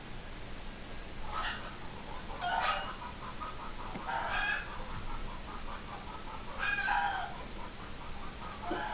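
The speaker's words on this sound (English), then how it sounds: "what the hell going on with those chickens? Ridiculous animals." Chickens squawk and cluck in four separate loud bursts spaced a couple of seconds apart, over a steady low background hum.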